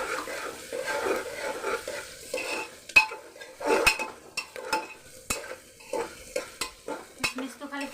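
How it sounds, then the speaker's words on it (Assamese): Cashews, almonds and raisins fry in a pan with a quiet sizzle while a utensil stirs and scrapes in repeated clinks and knocks against the metal. "ভাজি ল'ম।"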